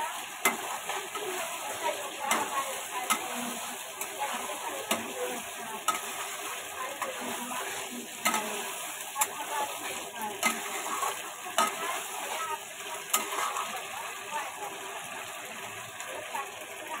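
Chicken stir-frying in spices with round bottle gourd, a continuous close sizzle broken by frequent scraping and clicking stirs of a spatula in the pan.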